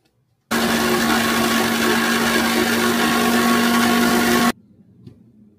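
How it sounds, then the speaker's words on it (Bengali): A kitchen blender grinds mustard seeds and green chillies with water into a paste, a loud, steady motor whine running for about four seconds, then cutting off abruptly into near silence. "এখানে জল দিয়ে এবার মশলাটা পিষে নেব।"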